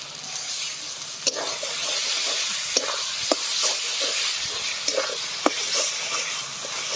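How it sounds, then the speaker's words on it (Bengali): Spice masala with kasuri methi sautéing in a pan, a steady bright sizzle and hiss with scattered stirring scrapes and a few sharp clinks of a spoon against the pan, close and continuous without talk. "মশলাটা ভালোভাবে কষিয়ে নেব। এখানে নিয়েছি কস্তুরি মেথি"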